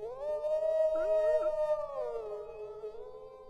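A long, mournful wolf howl plays as an emote in the video game Fallout 76. It is a single sustained tonal cry that wavers and bends in pitch, then slowly fades, heard clearly with no talk over it.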